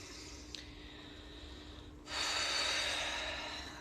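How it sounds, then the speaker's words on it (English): One forceful exhale clears out the breath during a mindful morning breathing routine, starting with a sudden loud rush of air, then tapering slightly as it continues near the mic, preceded by a faint short sniff. "On that next exhale, just kind of clear out that breath."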